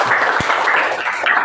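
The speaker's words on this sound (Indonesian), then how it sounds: "tepuk tangan." Students in a classroom give a short burst of applause, dense and steady clapping lasting just over a second.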